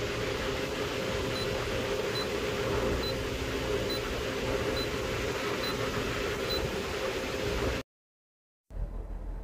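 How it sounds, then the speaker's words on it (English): Electronic refrigerant leak detector checking the piping of a refrigeration system, giving short evenly spaced high beeps about every second over a steady loud hiss and fan-like hum, then cutting out briefly near the end. "We will use this leak detector."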